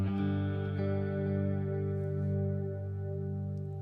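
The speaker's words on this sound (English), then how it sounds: "you've got this little wavering sort of chorus sound." A sustained electric guitar chord through a Katana amplifier rings out with a gentle, wavering chorus shimmer, steady and fairly loud, with no talking.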